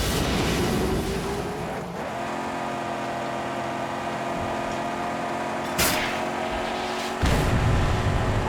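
Vehicles drive across the Balefire Flatland in the Mad Max video game, a steady loud engine roar running throughout with gear shifts and a couple of brief sharp bursts as the pitch changes.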